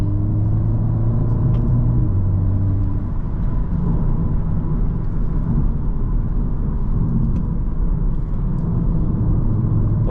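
An Audi S3 8V sedan engine pulls hard up a mountain pass, a steady low rumbling drone with interior road noise, continuous and fairly loud without any talking.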